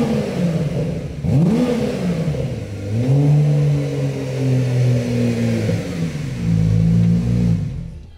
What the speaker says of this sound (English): really makes all those sounds and noises that you'd really expect a Turbo S to make